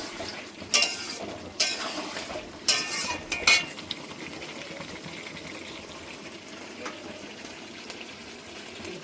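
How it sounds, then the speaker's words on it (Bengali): Boiled water poured into a pot of Bengali chicken kosha, a steady liquid gush with several sharp metallic clinks of utensil against pot near the start. "জলটা আমি ফুটিয়ে নিয়েছি, এবার জলটা দিয়ে দিচ্ছি।"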